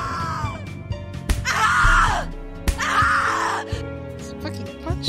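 In the horror video game The Cat Lady, a woman screams twice in long, anguished wails, close and loud, over a low droning game soundtrack with scattered thumps.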